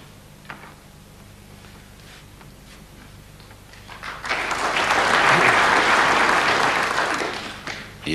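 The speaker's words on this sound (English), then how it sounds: "deserved applause there for Jimmy placing that cue ball underneath t" Audience applause at a 1992 World Championship snooker final swells from a quiet hall into sustained, moderately loud clapping from a large crowd, then fades near the end, after faint clicks of balls.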